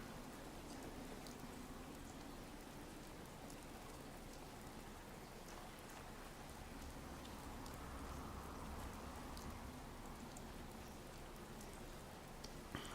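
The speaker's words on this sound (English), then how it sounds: "In the rain, of course." Rain in the Fallout 4 Commonwealth wasteland falls as a faint, steady hiss of drops that never lets up, soft and distant with no voices.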